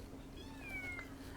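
A cat gives a single faint, drawn-out meow, thin and rising, over a steady low background hum.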